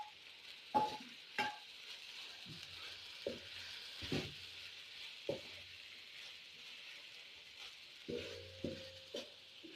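Shredded boiled chicken frying in a pan for an egg paratha roll, with a soft steady sizzle under repeated scraping stirs and light clinks of a spatula against the pan.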